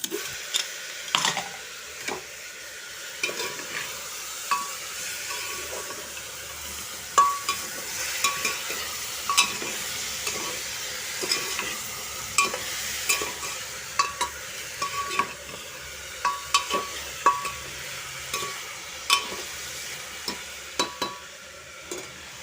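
Rice being fried in a pan for khichdi, heard as a quiet steady sizzle under a long run of rhythmic scraping and clicking from a spoon stirring the grains.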